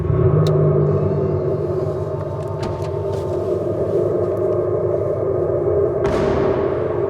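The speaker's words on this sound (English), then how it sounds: "it faithfully reproduces the sound of an Abarth petrol engine" An electric Abarth 500e's speaker plays an artificial Abarth petrol engine sound: a deep, steady rumble idling close by, with a low throbbing drone and a brief rev near the end; no speech.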